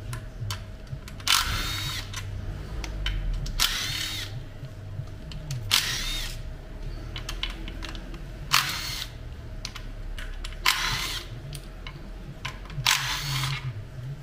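A power tool or ratchet spins bolts out of a Ford Fiesta EcoBoost sump: repeated short whirring bursts spaced a few seconds apart over a steady workshop hum.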